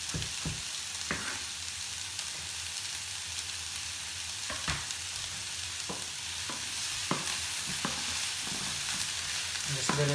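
Vegetables cook in a pan with a continuous close sizzle, broken by intermittent scraping and clattering stir strokes.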